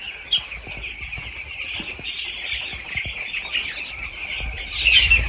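Many chicks chirping together inside a poultry farm shed, a continuous high-pitched twittering chorus that stays steady and fairly loud, with faint low rustling underneath and no speech.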